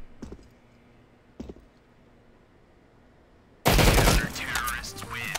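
Gunfire sprayed in a CS:GO-style video game, a few faint clicks, then a loud sudden burst of rapid shots under talk.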